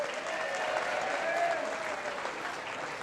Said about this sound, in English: Please give Newtown Liquor a round of applause.